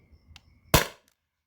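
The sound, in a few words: Beeman BP50 air pistol firing a 7.6 gram steel ball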